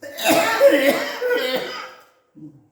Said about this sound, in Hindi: खांस लो आप पहले।